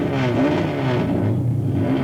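Hot rod race cars pulling away at the start of an afternoon heat at Alwalton Raceway in 1983, a loud, dense roar of several engines revving together without letup.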